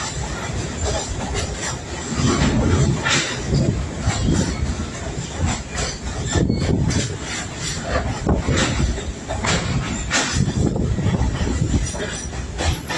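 An open-air train rumbles along the rails with a steady roar, rhythmic clicking of wheels and a faint high squeal, heard from inside the car.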